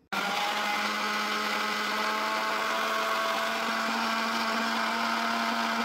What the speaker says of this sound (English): I will put it in the blender to make it one